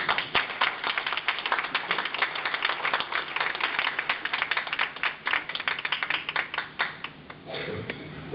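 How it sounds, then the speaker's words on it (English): Audience applause at a community technical and adult education event after a speech, a busy patter of many hands clapping at moderate distance that thins out toward the end. "another round of applause"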